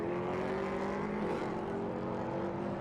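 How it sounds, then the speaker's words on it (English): A steady, continuous engine rumble from drift cars in a neighbouring garage at the Nürburgring circuit, a droning hum with a low tonal note that holds evenly throughout without clear passes or revs. "There's definitely a rumble nearby, either that or, to be fair, some of the drift cars that get used as demonstrators here at the Nürburgring"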